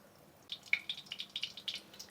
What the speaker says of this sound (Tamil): இப்போ நம்ம எண்ணெய் போட்டுக்கலாம், சரிங்களா?